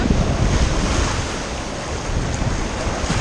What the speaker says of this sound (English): We're out here at Destin Beach